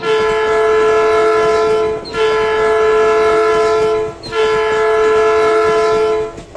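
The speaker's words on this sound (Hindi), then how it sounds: "तीसरे प्रकार का जो हॉर्न है, जिसको बजाने की स्थिति बहुत ही कम आती है" An Indian Railways locomotive horn sounds as three short, loud blasts with brief gaps between them, each a steady, rich multi-tone chord held for about two seconds, heard close with no talking.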